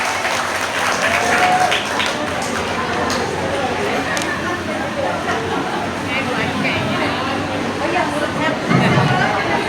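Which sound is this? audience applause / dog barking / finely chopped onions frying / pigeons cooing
audience applause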